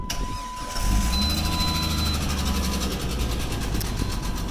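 A Jeep engine cranks briefly and catches, then settles into a steady, rumbling idle close by, with a faint engine tick running through it.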